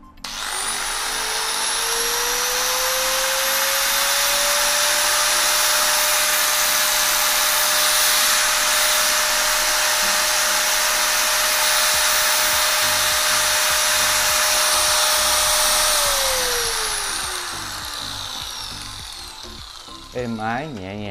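Hitachi power tool, model 877, with a 3 m power cord, running as one long loud steady high-pitched motor whine for about fifteen seconds before winding down, then a voice speaks at the very end.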